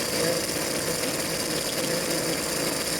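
A choked 100cc bike motor being broken in runs at full throttle, giving a steady, loud buzzing drone with no letup across the whole stretch.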